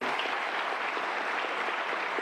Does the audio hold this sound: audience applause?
yes